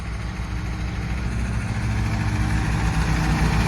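An International tractor engine idles steadily at a charity tractor run, a continuous low rumble that stays close and fairly loud throughout with no talk over it.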